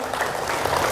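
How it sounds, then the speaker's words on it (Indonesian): An audience claps at an event for civil servants preparing for retirement, a short burst of dense, even clapping from many hands filling the room. "tepuk tangan dulu buat teman-teman ini dong"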